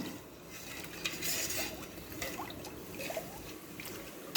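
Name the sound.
stirring sugar into beetroot wine mixture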